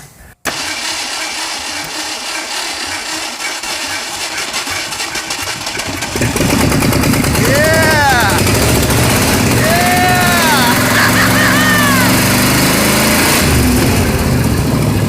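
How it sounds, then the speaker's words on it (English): A 1968 Ford Mustang Mach 1 engine in a junkyard cranks and fires, then settles into a loud, steady, rough idle while people talk excitedly over it. "It's idling! That's a lot of blow-by!"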